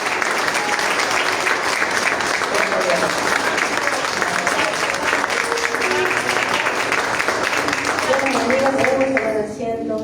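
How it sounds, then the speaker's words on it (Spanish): Loud, sustained applause from a church congregation, steady clapping throughout with some voices mixed in near the end. "Damos un fuerte aplauso al Señor Jesucristo."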